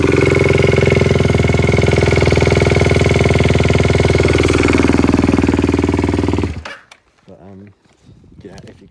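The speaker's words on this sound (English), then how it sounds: "I'll start the bike up and go like as near as I can to the valves for you" Aprilia SX125 motorcycle with a four-stroke engine idling up close with tappy valves: a loud, steady, rough chugging rumble with a fast ticking rattle on top. It stops after about six and a half seconds, and a voice follows.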